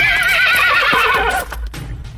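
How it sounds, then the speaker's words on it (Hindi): Horses neigh and whinny in panic, a loud, shrill drawn-out cry with faint hoof clatter beneath, used as a sound effect in a Hindi horror audio story about a carriage halted by wolves. "घोड़े दहशत में हिनहिनाते हुए अपने पिछले पैरों पर खड़े हो गए।"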